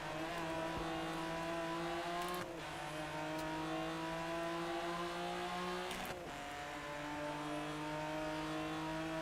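Race car engines in the Rennsport racing video game drone steadily at high revs, with brief shifts as cars run in a slipstream, continuous and loud with no talk.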